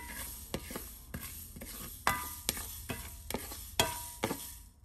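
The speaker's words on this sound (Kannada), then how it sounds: "ಈಗ ಕರಿಬೇವಿನ ಸೊಪ್ಪು ಹಾಕ್ತಾಯಿದ್ದೀನಿ" Curry leaves roast dry in a pan while being stirred for homemade Karnataka sambar powder. A spoon or spatula scrapes in regular strokes about every half second over a faint sizzle, close and fairly quiet.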